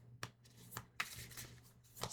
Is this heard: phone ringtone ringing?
no